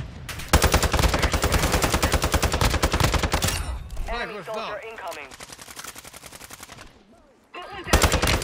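Sustained rapid automatic gunfire in the video game Warzone 2.0 rattles loud and close for about four seconds, then gives way to other sounds that include a voice. Another burst resumes abruptly at the end.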